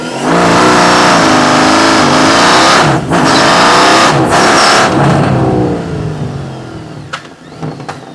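A BMW Vision K18 six-cylinder touring motorcycle with six exhaust pipes revs hard up close: a loud, raspy roar that climbs and dips through several throttle blips, then fades out into quieter idling.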